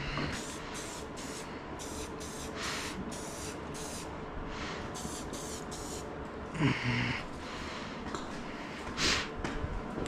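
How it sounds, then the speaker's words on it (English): Flat black Rust-Oleum spray paint hisses from a can onto a 1972 Mustang Mach 1 in short repeated bursts, fairly quiet and close, with a couple of brief clanks or rattles between sprays. "I just put flat black Rust-Oleum spray paint on a piece of American history"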